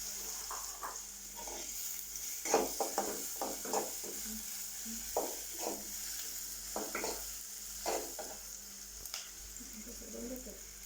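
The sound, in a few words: stirring chopped onion in hot oil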